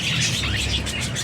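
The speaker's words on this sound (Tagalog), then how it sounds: "yung mga ibon ko" Several pet birds chirp close by in a dense, continuous chatter of high, overlapping tweets over a steady background hiss, lasting about a second.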